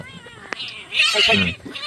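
A cat meows in drawn-out, wavering cries, rising into a louder caterwauling yowl midway, with a sharp click just before.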